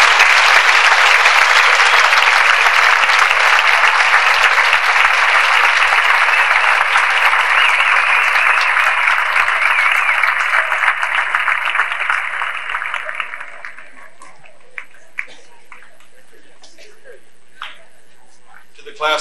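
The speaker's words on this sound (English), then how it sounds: "Can we give them a round of applause?" Sustained applause from the crowd at a 1989 high school graduation ceremony as parents and grandparents stand, a broad, loud wash of clapping that holds for about thirteen seconds and then stops abruptly, leaving near silence with a few faint knocks.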